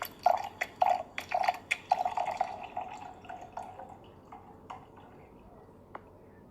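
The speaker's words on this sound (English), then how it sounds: "hit this little thing, and then it pours some wine" Wine spurts from a bottle through a needle wine preserver in a few short, gurgling bursts, loudest at the start and then thinning to soft, scattered drips and ticks.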